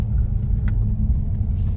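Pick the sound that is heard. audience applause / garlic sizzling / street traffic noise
street traffic noise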